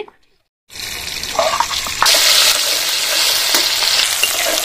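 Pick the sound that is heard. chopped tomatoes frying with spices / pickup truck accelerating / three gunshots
chopped tomatoes frying with spices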